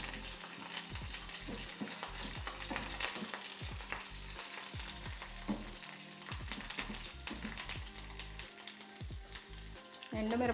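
Urad dal, cumin and mustard seeds tempering in hot oil give a close, steady sizzle with constant crackling pops and spits throughout, no voices.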